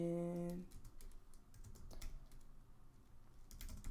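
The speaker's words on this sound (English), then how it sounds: "I just got a new keyboard, so my typing is kind of flawed right now." Rapid keystrokes on a new computer keyboard clatter steadily and close by, in an irregular rhythm of sharp clicks, following a brief tonal hum at the start.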